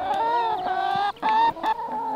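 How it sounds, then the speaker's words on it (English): Several chickens clucking close by in steady, overlapping bursts, with no talk over them. "You know chickens can be quite vicious."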